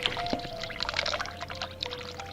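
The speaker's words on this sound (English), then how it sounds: "Turn on even more. More hot water." Hot water runs from a tap in the video game The Cat Lady, a steady splashing pour heard close with no talking.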